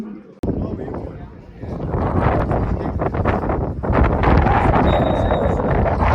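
Wind gusting across an open outdoor football pitch at half-time, a steady, loud, low rumble buffeting the microphone throughout, with indistinct voices underneath.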